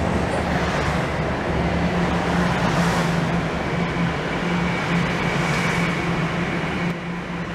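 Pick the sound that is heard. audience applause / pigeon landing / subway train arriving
subway train arriving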